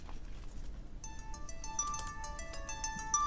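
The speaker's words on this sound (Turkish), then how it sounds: "Telefon çalıyor." Telephone ringtone playing an electronic melody of bright repeated tones, starting about a second in over a low background hum, moderately loud and without speech.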